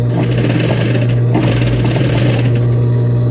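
A sewing machine stitching pleats and a pocket into fabric runs loud and close, its steady rapid needle chatter and motor hum continuous throughout.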